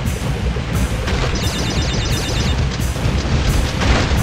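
Nitro crate explosions in Crash Bandicoot: The Wrath of Cortex, Water World level, booming repeatedly over busy game music and effects, loud and close with a steady rumbling texture.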